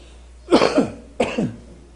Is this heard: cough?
yes